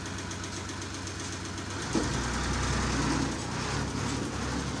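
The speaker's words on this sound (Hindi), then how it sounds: "गेयर फंस गए हैं लगता है ट्रैक्टर के।" Tractor engine running steadily with a low knocking rumble while its gears are stuck, nearby and continuous, with a brief clunk partway through.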